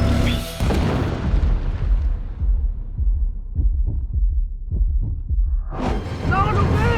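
A tank in a video game firing a shot: a deep booming blast with a rumbling, fading tail, heavy and close, with voices talking at the start and end.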